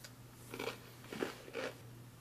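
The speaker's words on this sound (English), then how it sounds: "Let's try the crackers and peanut butter. Give the cracker a taste." Three crunchy bites into a dry MRE cracker served with peanut butter, each a short, close crackle spaced about half a second apart over a faint steady hum.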